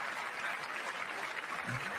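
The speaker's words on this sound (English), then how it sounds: "This is about 30 seconds of clapping going on right here" Sustained applause from a large audience at the State of the Union address, a dense, even wash of clapping that carries on steadily at moderate volume.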